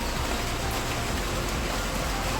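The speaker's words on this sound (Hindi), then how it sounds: "और बारिश तो बढ़िया हो रही है" Steady, even rainfall hissing continuously on a surface, dense and fairly close, with no voices or other sounds.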